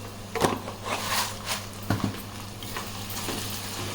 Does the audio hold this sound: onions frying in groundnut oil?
yes